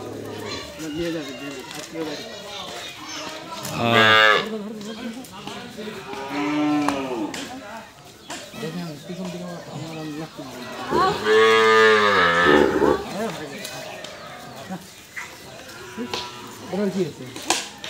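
Cows bellow during a vaccination drive at a veterinary hospital, several long loud moos, near and repeated, with people talking and shouting around them.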